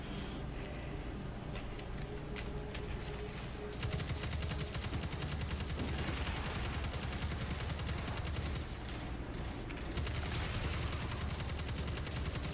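Rapid, continuous gunfire from the Destiny 2 video game, with dense automatic bursts that run almost unbroken and stay loud and steady throughout, with no clear talking.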